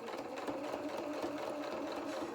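A sewing machine runs steadily while stitching a seam across the forehead of a felt and fur hedgehog doll head, with a fast, even mechanical whirr heard up close and alone.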